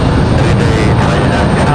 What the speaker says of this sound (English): Frontier Airlines headed out as well